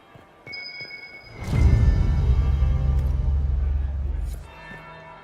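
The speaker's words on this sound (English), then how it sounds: "That would be the second bell" A church bell strikes once in the video game Dragon Age: Inquisition, a deep resonant toll that swells and hangs for a few seconds before fading, following a brief tonal chime.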